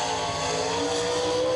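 A race car with a race-built engine exiting turn four at Wartburg Speedway during qualifying, a steady loud engine drone held throughout, roaring without pause.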